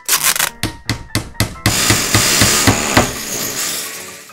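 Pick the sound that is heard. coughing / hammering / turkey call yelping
hammering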